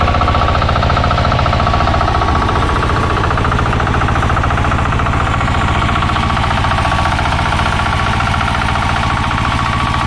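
A farm engine machine runs continuously in a rice field in the Philippines, a loud, rapid, rhythmic mechanical pounding that stays constant throughout with no talk.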